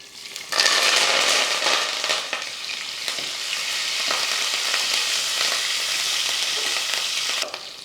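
Green chilies, curry leaves, ginger and spices sizzle and fry steadily in oil in a pan, a loud continuous crackling hiss with occasional stirring scrapes, no talking.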